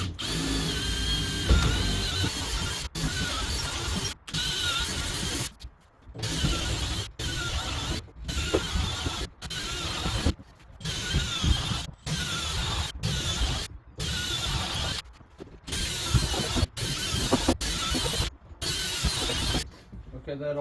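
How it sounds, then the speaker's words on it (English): Power drill boring holes with a 10mm bit through an old flightcase trunk to take caster bolts, sounding as loud repeated bursts of drilling separated by short pauses, close up and alone. "to drill out the main holes to receive the bolts."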